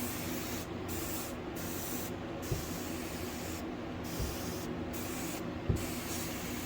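A pumped handheld sprayer releasing bug insecticide in a steady close hiss with brief pauses between bursts, over a low background hum, with no talking.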